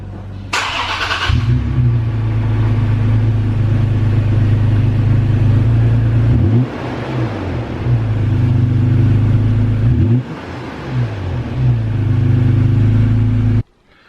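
A truck with a TRD exhaust cold-starts with a quick crank, then settles into a deep, steady idle rumble, briefly rising and falling with a couple of blips before cutting off.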